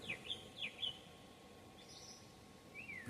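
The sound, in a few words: birds chirping outdoors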